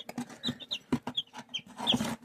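Small birds chirp and cluck in quick, irregular bursts nearby, with high peeps scattered among soft lower clucks.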